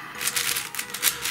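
Rapid plastic clicking and clacking as the layers of a non-magnetic YJ RuiChuang 5x5x5 puzzle cube are twisted several times in quick succession, close up.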